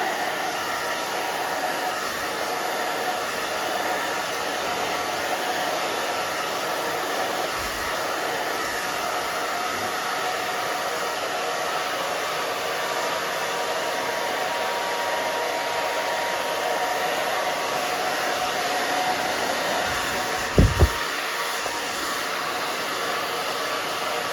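Hair dryer blowing steadily and loudly throughout while a round brush dries a pixie haircut in a salon, a constant close-up whoosh with a brief soft bump near the end.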